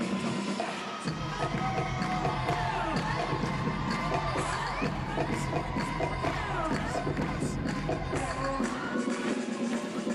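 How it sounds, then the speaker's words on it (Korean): Arena crowd at a gymnastics floor routine cheering loudly and continuously, with whoops and shrill shouts layered over a dense roar that swells then fades near the end. "그녀의 미소와 댄스 동작에 군중들 역시 환호하는데요"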